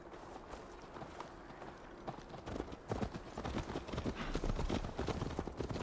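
Horse hooves gallop across ground in Assassin's Creed Valhalla, a fast rolling clip-clop that starts moderate and grows louder and denser as the ride picks up, with no voices over it.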